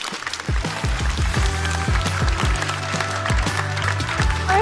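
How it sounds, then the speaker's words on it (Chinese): A stand-up comedy show audience applauds a comedian, a sustained wash of clapping with a steady low thumping beat underneath that carries through the whole stretch. "掌声送给小静。"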